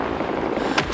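Loud, continuous rumbling artillery barrage in the Vietnam War shooter Rising Storm 2: Vietnam, with a sharper blast cracking through near the end of a dense, booming wash.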